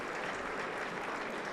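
An audience at a humanitarian forum session applauds to welcome guests: a dense, steady wash of clapping from many hands, held at an even level for a short stretch with no voices over it.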